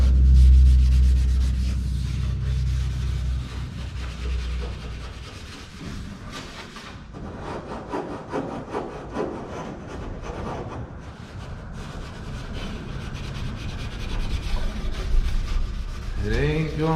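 Sanding primer overspray off an already-sanded car body panel, likely a Biscayne, gives a continuous close scraping rub that runs steadily throughout with irregular strokes and some low rumble beneath.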